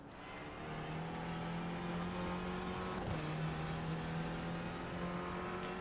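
Clio Cup race cars lapping at Ledenon in a sim race, a sustained engine drone with a steady pitch and a brief shift midway, moderately loud and continuous.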